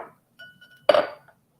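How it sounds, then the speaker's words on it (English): A spoon stirring a detox juice in a glass gives a brief clink and a short burst of liquid swirling, near and quiet, after a faint ringing tap, with silence around it. "Let's stir it a little bit."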